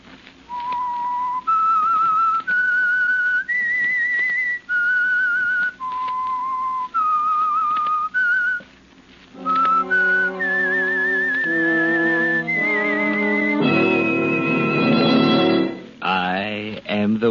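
Someone whistles a slow, clear tune of held notes as the opening of a vintage radio drama, then music joins in with a fuller, brighter melody toward the end.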